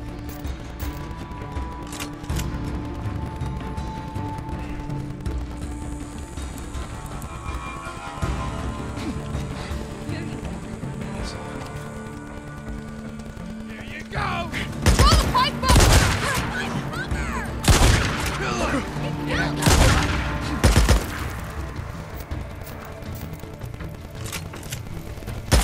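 Heavy shotgun blasts boom in Days Gone, a handful of loud, sharp shots clustered in the second half after a stretch of quieter game ambience.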